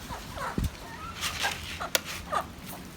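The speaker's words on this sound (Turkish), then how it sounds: "köpeklere de atacağız yem. Nasıl kavga ediyorlar yemek için" Farm dogs fighting over thrown feed snarl, yip and whimper in short scrappy bursts with a sharp bark or two, a close, busy scuffle with no steady rhythm.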